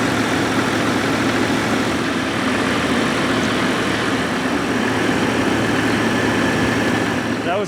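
A heavy tractor engine runs steadily and loudly as the throttle is pumped to build turbo boost, a constant low rumble with a slight rising tone near the end, no talking.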